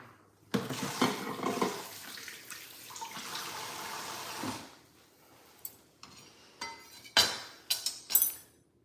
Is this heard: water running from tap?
yes